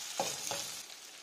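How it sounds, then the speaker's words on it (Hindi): Potatoes stirred in a hot pan with turmeric and red chili powder, a soft steady sizzle with two quick scraping stirs near the start, fairly quiet. "आलू के साथ ही हम डालेंगे इसमें हल्दी पाउडर, लाल मिर्च पाउडर और अच्छे से एक बार चला देंगे"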